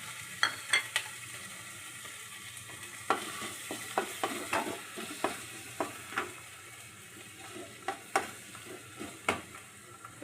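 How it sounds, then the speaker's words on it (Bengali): Curry leaves fry in a little oil for dahi vendi, a steady crackling sizzle broken by frequent sharp clicks and scrapes of stirring, close and fairly loud throughout. "এবারে দিয়ে দেবো কারি পাতাগুলো"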